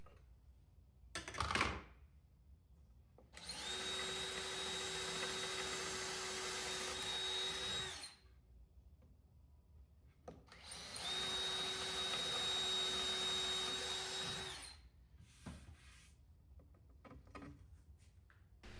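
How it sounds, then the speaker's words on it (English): A power drill bores small pilot holes into a wooden dresser in two steady whirring bursts of about four seconds each. Faint knocks and handling noises come before, between and after the runs. "I'm just doing little pilot holes in the beginning"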